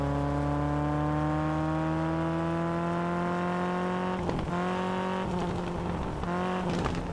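Alpine A110 rally car in WRC Generations, its engine revving hard and climbing steadily through the gears, with sharp drops at shifts and bursts of tire noise and gravel, loud and close throughout.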